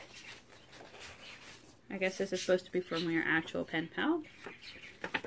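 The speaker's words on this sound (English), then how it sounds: "Sorry about the birds. They're really noisy." Small pet birds chirp steadily at low level in a room, faint and high under a person talking over them.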